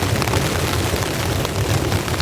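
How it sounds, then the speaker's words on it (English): Thunder rumbles loud and close through a heavy rain and wind storm at a campsite, a continuous deep roll filling the whole stretch with no voices over it. "That's thunder."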